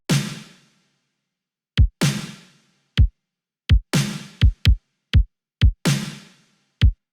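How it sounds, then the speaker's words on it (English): A sparse synthwave-style drum machine pattern alternates a deep, pitch-dropping kick with bright, noisy snare hits, each decaying quickly, with clear gaps between strikes. "We just want a kick and a snare."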